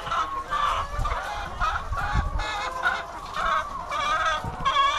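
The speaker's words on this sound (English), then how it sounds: "there's a lot of chickens in there" Chickens on a farm in Cebu cluck and chatter continuously at close range, several birds overlapping in a busy, uneven rhythm with no voices over them.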